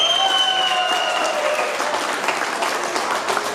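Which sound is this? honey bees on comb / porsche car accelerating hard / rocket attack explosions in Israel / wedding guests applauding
wedding guests applauding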